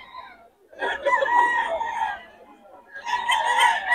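A gamefowl rooster crows at a farm, with two loud, drawn-out harmonic crows separated by a short pause and faint voices nearby.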